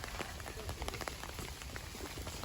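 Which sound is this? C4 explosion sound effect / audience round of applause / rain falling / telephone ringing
rain falling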